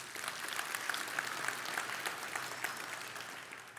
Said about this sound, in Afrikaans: Kan ons vir hulle lekker hande klap gee?